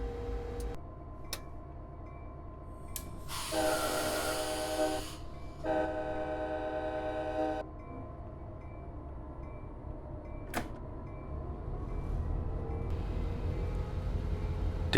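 Passenger train departing Irvine in Train Simulator 2015 on the Pacific Surfliner route: a low steady rumble with repeated loud horn blasts and clicking from the cab.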